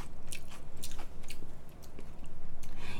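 Thin, crispy Korean jeon pancake being bitten and chewed close up at a social eating meal, with a run of sharp, crunchy bites and chews repeating steadily and loudly, no talking.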